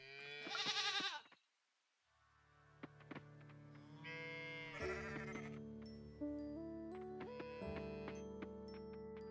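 Bleating goat from the farming video game Coral Island, a short harmonic animal cry near the start, followed by a gap and then steady game music and chimes with no talking.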